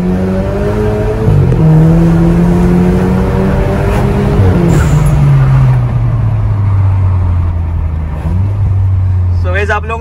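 A Skoda Octavia 1.8 TSI with a stage 2+ remap accelerating hard on an empty road, loud engine note rising in pitch through several gear changes, heard from inside the car.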